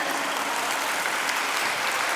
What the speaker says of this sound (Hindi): इन कलाकारों के लिए एक बार फिर जोरदार तालियां।